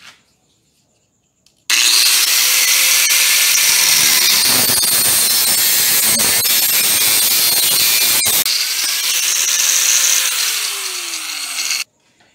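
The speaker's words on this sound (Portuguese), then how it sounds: "Essa barra roscável aqui de 3 oitavos, vou cortar um pedaço com 15 centímetros e um pedaço com 13 centímetros" A power tool cuts through a 3/8 inch threaded steel rod, a loud continuous high-pitched grinding whine lasting about ten seconds with a dip midway, starting and stopping abruptly.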